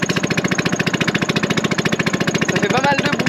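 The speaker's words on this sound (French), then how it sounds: "Ça fait pas mal de bruit et l'engin du moteur." A boat engine running on a river in a Lao village, a steady, loud, rapid mechanical pulsing drone close by throughout, with no talk over it.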